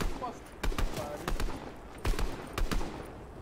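Gunfire in the Fortnite video game: several loud, sharp shots arrive in short bursts and scattered single cracks across a few seconds, close and punchy.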